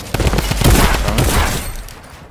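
Rapid, loud bursts of automatic gunfire from a shooter video game, close and overlapping in quick succession before trailing off.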